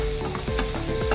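Chopped tomato and a whole clove of garlic cut into small pieces sauté in a pan, giving a steady sizzle broken by a few rhythmic scraping stirs, close and fairly loud.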